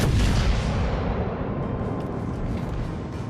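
Heavy battleship main guns firing in World of Warships Legends from a Tier VII Massachusetts, a dense booming roar that is loudest at the start and then rolls on as a sustained rumble with no voices.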